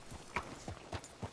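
Horse hooves clip-clop in Red Dead Redemption 2 as a horse is being hitched, a handful of soft, evenly spaced hoof thuds at a walking pace, faint and close with no speech over them.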